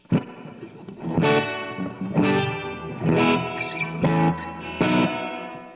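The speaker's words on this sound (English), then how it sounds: "now we have my spring reverb" Electric guitar chords ring out one after another through a spring reverb, each strum followed by a splashy, springy reverb tail that washes and echoes behind it.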